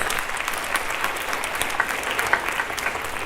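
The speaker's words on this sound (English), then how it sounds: "Let's give him an applause" Audience applause at a Bharata Natyam arangetram held at Lake Zurich High School, a steady wash of many hands clapping at moderate volume throughout, without voices.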